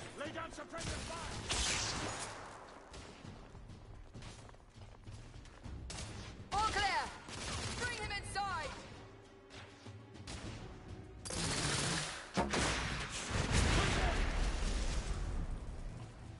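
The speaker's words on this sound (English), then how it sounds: "Green, lay down suppressive fire." Suppressive gunfire in the video game The Order: 1886, bursts of rapid shots and mechanical clatter that swell and fade over a dense battle backdrop, with voices intermittently under the noise.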